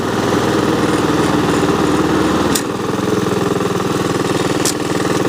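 A Honda HRX217 lawn mower engine runs steadily close by, a loud continuous idle-like drone with a brief dip and shift in pitch midway, then keeps chugging evenly; no talk.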